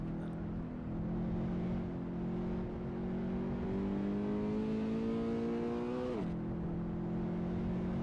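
A Toyota race car engine in Assetto Corsa holds a steady droning note that climbs slowly in pitch under load, then drops sharply at a gear shift and settles lower, loud and continuous throughout.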